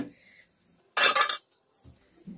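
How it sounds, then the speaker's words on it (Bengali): A wok set down on a gas stove in a home kitchen makes one short metallic clank and rattle, moderately loud against near silence, with small soft knocks before and after. "এবার কড়াই বসিয়ে দিচ্ছি"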